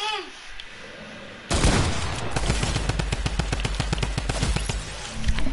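Rapid bursts of video game gunfire erupt suddenly after a quiet start and keep rattling steadily at close range, loud and dense, with a voice faintly present.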